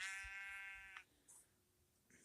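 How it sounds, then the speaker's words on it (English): A single Minecraft sheep bleats clearly for about a second, followed by quiet with a few faint clicks and rustles. "I don't know what that sheep is doing over there"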